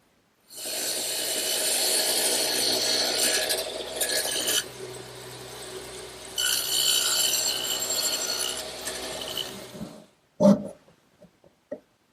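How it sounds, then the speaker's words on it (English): A radial arm saw fitted with a dado head cuts tenons in wood, a loud sustained whine over roughly ten seconds with a brief dip midway, followed by a few short knocks and clatters after it stops. "I'll cut the thickness using my radial arm saw and the dado head cutter"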